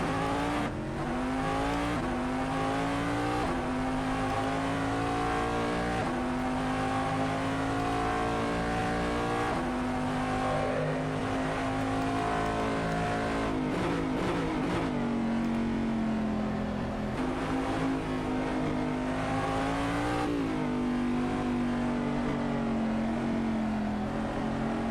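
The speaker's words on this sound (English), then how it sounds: "The sounds for this car, like the in-car sounds, are fantastic." Corvette DP prototype race car engine heard from the cockpit at Silverstone GP in Assetto Corsa, a loud sustained drone that rises and falls steadily through gear changes and throttle lifts, with no voices over it.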